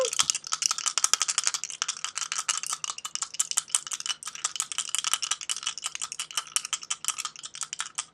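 Dice are shaken and thrown for an astrology reading, making a close, continuous rapid clatter of small hard pieces rattling for several seconds with no talk.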